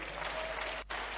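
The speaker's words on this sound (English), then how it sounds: "Please clap for him." An audience at an empowerment summit applauds with steady, distant clapping that carries through the whole moment and dips briefly near the end.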